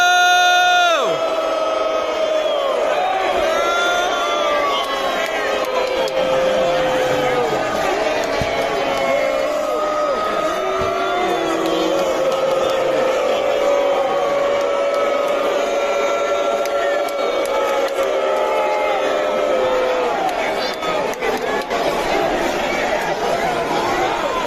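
A wrestling crowd at a Hell In A Cell event, recorded on a phone inside an arena, keeps up a dense, continuous roar of chatter, shouts and cheering for the whole stretch. The noise stays loud throughout and thins out only slightly near the end.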